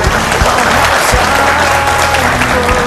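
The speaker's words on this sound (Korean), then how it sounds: "지금까지 강연해주신 변재생 미래에셋증권 대표님께 다시 한번 큰 박수 부탁드립니다." An audience applauds after a university lecture by a Mirae Asset Securities CEO, a dense, even wash of clapping that holds steady and loud for about three seconds with no voices over it.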